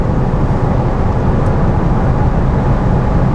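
Steady broadband road and wind roar inside a BMW F30 sedan with an eight-speed gearbox, cruising at 180 km/h; a constant, moderately loud hum with no speech.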